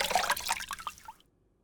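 Bathwater sloshing and dripping as someone climbs out of a tub, several soft splashes and trickles close by, fading to silence after about a second.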